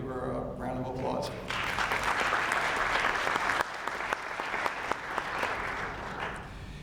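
Applause at an employee recognition ceremony: an audience breaks into a dense, steady round of clapping after brief speech at the start, and the clapping holds through the rest of the clip.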